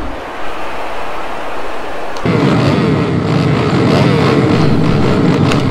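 Motocross race engines in the MX vs ATV video game, a loud continuous buzzing engine roar that jumps in intensity partway through as the bikes launch and rev.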